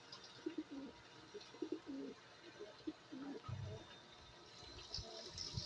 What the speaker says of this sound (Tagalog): ang buhay kalapati ni Daddy Tutan.